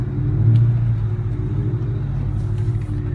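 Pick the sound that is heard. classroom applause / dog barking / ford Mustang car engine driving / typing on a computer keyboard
ford Mustang car engine driving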